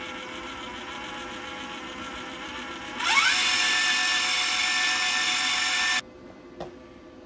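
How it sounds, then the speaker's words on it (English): A PrimeWeld MIG 180 spool gun feeds welding wire with a low motor whine that runs slowly at first, then jumps to a louder, higher-pitched steady whir for about three seconds before cutting off abruptly, followed by small clicks. "You can see it goes slow until for a few seconds, and then it speeds up. That's typical for a lot of spool guns."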